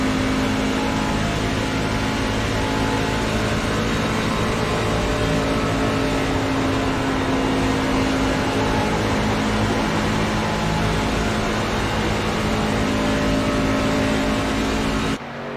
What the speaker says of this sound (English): So I'll jump on board with Nate Bryan and let him take us for a lap around